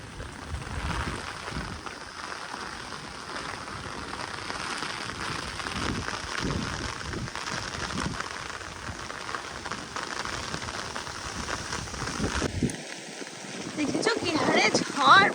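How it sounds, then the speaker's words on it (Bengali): Steady rain patters on surfaces, a dense continuous hiss of drops, with a brief tone and some rustling near the end. "বৃষ্টি একভাবে হচ্ছে"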